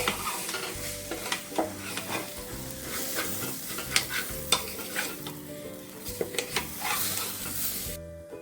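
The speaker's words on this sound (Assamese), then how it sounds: "এইখিনি ধুনীয়াকৈ লৰাই অলপমান লৰাই দিব লাগিব" Rice is stirred with salt in a hot frying pan, a spatula scraping and knocking against the metal over a continuous sizzle, steady and close with irregular louder scrapes.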